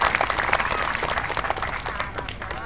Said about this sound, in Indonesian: Tepuk tangan dulu buat polisi dan tentara.